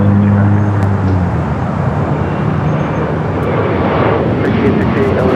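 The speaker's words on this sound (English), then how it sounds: "Alright, we got that United A321 Neo up next." A United Airbus A321neo rumbles at Los Angeles airport, a loud, sustained broadband jet roar with low engine tones, while a voice talks over it.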